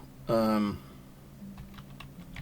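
Faint keystrokes on a computer keyboard, typing an item spawn command in the game Rising World, sound as a few quiet, scattered clicks after a brief louder tonal sound at the start.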